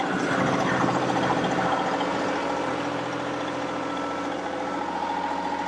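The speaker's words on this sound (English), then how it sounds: "when I want to accelerate, you can hear the engine." John Deere 2038R compact tractor in snow, its engine humming steadily and building slightly from low idle, a continuous mid-pitched drone with wind noise around it.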